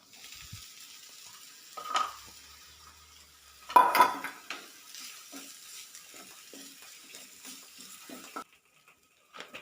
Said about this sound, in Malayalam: ഇനി ഇത്രയും തേങ്ങ എടുത്തിട്ടുണ്ട്. അതൊന്ന് വറുത്തെടുക്കാം.